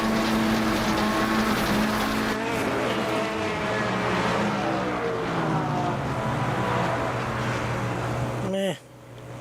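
Race cars lapping in the endurance racing game Le Mans Ultimate, a continuous high engine whine rising and falling through the gears, ending in an abrupt shift, with someone talking over it.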